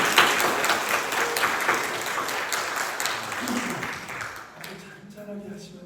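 A church congregation claps together, loud and crowded at first and then gradually thinning and fading, with a voice starting to speak near the end as the clapping dies away.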